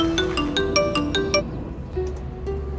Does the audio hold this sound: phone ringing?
yes